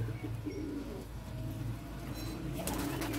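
Soft, low cooing from a flock of about thirty flying pigeons, steady and close amid a faint outdoor background, with a brief brighter rustle near the end.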